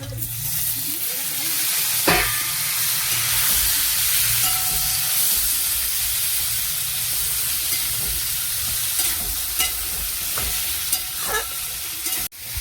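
Chopped tomatoes fry in a pan with chili and other ground spices, giving a loud, continuous close-up sizzle punctuated by occasional scraping stirs and clinks.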